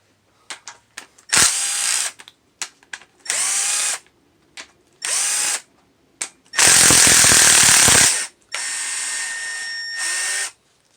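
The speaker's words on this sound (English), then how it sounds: "We're going to take off these 12 bolts that are all 10 millimeters for the cams." A power tool spins out the 10 mm cam cap bolts on a Subaru WRX/STI engine during a head gasket job, in loud, close bursts of whirring of varied length, separated by short gaps and small clicks.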